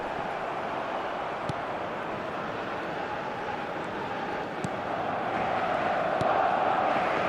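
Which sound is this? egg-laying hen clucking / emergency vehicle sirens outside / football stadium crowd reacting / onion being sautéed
football stadium crowd reacting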